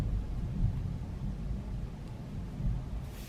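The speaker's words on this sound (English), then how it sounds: "The house is all shaking from the thunder right now." Thunder rumbling during a thunderstorm at a house, a low, continuous rolling roar that stays fairly constant throughout with no speech.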